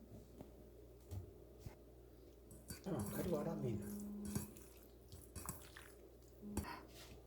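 Egg is stirred into anchovy fish in a bowl, with soft, quiet clinks of a spoon against the dish and brief wet squishing bursts, all faint and near.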